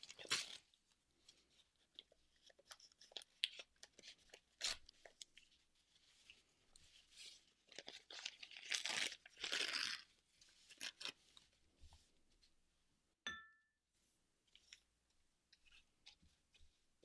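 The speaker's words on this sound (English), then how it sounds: "And we can tear off excess paper." Excess paper is torn off by hand during a craft project, a series of faint crinkling rips and rustles in short bursts, with quiet gaps between them.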